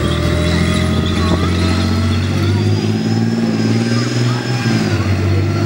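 A Warrior engineer variant armoured vehicle drives and turns, its loud, steady engine drone rumbling close by and continuous throughout, with a faint voice talking over it.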